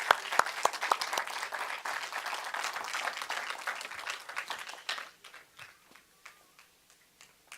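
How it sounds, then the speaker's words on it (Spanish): A church congregation applauds during a worship service. The clapping starts full and lively, then thins into scattered individual claps and fades out. "Le damos un aplauso al Señor."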